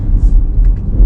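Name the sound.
Audi SQ5 engine burble on downshift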